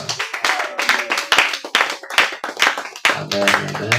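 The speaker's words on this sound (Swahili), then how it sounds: "Chapia Yesu makofi mengi sana" A church congregation clapping for Jesus with quick, rhythmic bursts of many hands close by, and voices speaking and singing along near the end.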